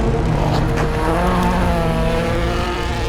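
Rally cars at the Rocky Mountain Rally 2019, a loud continuous engine roar with revving tones and some tire noise, close and dominant throughout.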